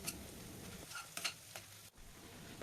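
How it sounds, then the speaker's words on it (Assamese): Fish curry with salt and turmeric, cooked with skunkvine, stirred in a frying pan; a soft, low sizzle is broken by a few light spatula scrapes, faint and close, with no talking. "নিমখ আৰু হালধি পাউডাৰখিনি দিয়াৰ পিছত আকৌ আটাইখিনি মই ভালদৰে এবাৰ লৰাই দিম।"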